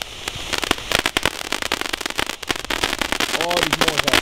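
Large firework rockets from Poland launch and burst in a dense run of sharp cracks and crackling pops, loud and close, with people's voices talking and exclaiming underneath.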